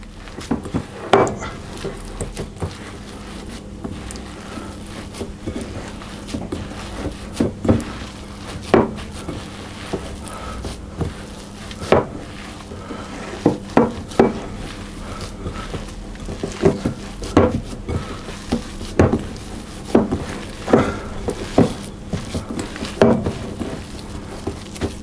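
Almond oatmeal cookie dough being stirred and mixed in a bowl, with repeated scraping knocks and clinks of a utensil against the bowl in an uneven rhythm over a low steady background hum, close and moderately loud, with no talking.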